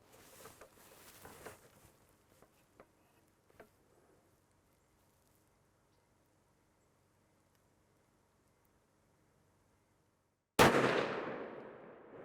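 A single loud rifle shot cracks out at a zeroing range and rings away in a long decaying tail, after several seconds of near silence and a few faint taps.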